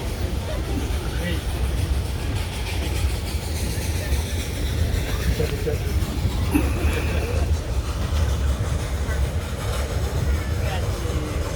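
Geared logging steam locomotive Dixiana laboring up a mountain grade, a dense, continuous low rumble and chuffing with rail clatter and faint squeals, heard close under occasional talk.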